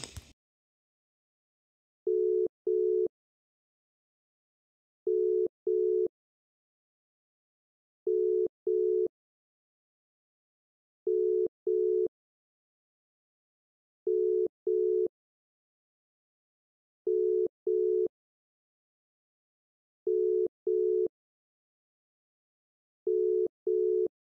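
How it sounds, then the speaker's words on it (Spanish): A WhatsApp voice call rings out as a repeating double-pulse tone, eight evenly spaced pairs of short beeps separated by silence, clear and alone. "Voy a llamarle ahora vía WhatsApp."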